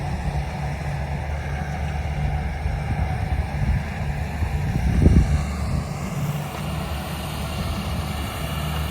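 Tractor engine, fitted with a 56 attachment, runs steadily in a maize field, a constant low rumble with a brief louder swell midway.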